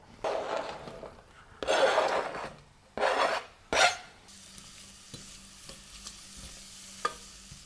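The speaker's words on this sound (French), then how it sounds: "maintenant je vais faire revenir dans du beurre" Scraping and stirring strokes in a pan come in several loud bursts as ginger is worked in butter, then give way to a soft, steady sizzle with occasional light clicks.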